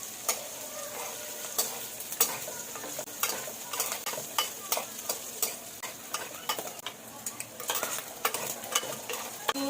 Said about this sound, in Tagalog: Stir-fry lang natin siya guys.